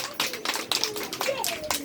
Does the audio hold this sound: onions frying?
no